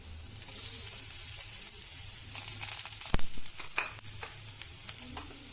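Coarsely ground green pea paste fries in a pan for paratha filling, a steady soft sizzle with scraping stir strokes midway, close and fairly quiet with no talking.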